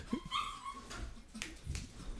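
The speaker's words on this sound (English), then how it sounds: "That's the alarm dog." A dog gives a whimpering, whining call followed by short yips and barks, close by and fairly quiet, with no voices over it.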